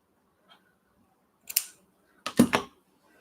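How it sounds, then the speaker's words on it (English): Scissors snipping fabric during a sewing craft, two short crisp cutting bursts of a few snips each, close and fairly loud with quiet pauses between. "I'll just do some snips and then tears."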